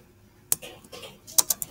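Someone types on a computer keyboard, a few quiet, close key clicks in an irregular burst after a brief pause.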